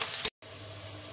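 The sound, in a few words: onions frying in oil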